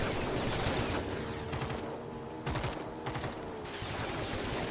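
Sustained gunfire in the video game Generation Zero, with rapid bursts of automatic shots crackling close and loud, overlapping into a dense fusillade with short gaps.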